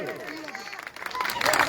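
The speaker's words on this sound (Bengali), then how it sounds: "খুশির জন্য একবার জোরে হাততালি হোক সবাই মিলে" An audience at a stage show at a fair by the Manikara lock gate in Durgapur claps and cheers for Khushi, a young dancer. The applause is dense and steady and swells louder toward the end, with crowd murmur mixed in.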